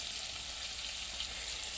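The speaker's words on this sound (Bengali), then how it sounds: "5 মিনিট ধরে মশলাটাকে কষিয়ে নিয়েছি।" Masala spice paste frying in oil in a pan, before fish is added, makes a soft, continuous sizzle with a bubbling hiss, heard alone at low volume.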